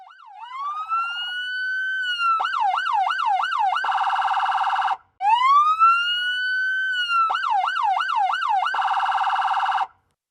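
Emergency sirens wail loudly, a rising tone breaking into fast yelping cycles, cutting off briefly midway before repeating the same pattern, with no talk over them.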